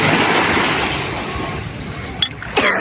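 Sea waves wash in with a loud, broad rush that slowly eases, with windy, close-up noise and a brief disturbance near the end.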